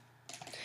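A few quick keystrokes clatter on a computer keyboard while a URL is typed, brief, close and crisp, with no voice.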